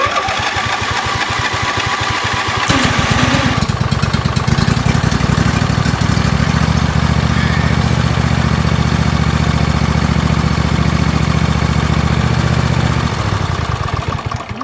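A Trapter engine, freshly serviced with an oil change, catches and settles into a loud, steady, close-up idle, its low chugging running continuously after the start before briefly fading near the end.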